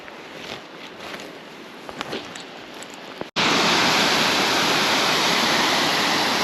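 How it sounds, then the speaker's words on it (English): A small waterfall on the Lycian Way in Turkey: after a few seconds of quiet outdoor ambience with light rustles, a loud, steady rushing of falling water cuts in abruptly and continues close by. "Nice little waterfall."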